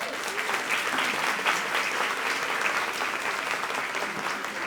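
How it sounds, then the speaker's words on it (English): An audience at a Latin women's luncheon applauds to welcome a speaker, a dense, even clapping from a sizable crowd that holds steady throughout at close range. "please give a round of applause and a warm welcome to"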